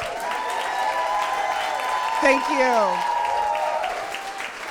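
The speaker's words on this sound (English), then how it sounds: "Can we give a round of applause to our board members, please?" Audience at a fundraiser dinner applauding for board members, a steady bed of clapping under a voice speaking and some calls from the crowd near the middle.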